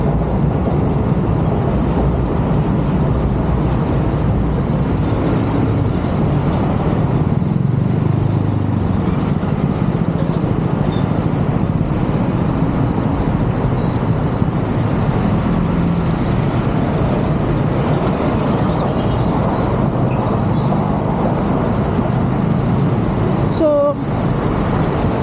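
Busy Bangkok road traffic at a crossing with no traffic light, a constant loud rumble of cars and motorcycles passing close by, with someone talking over the steady roar.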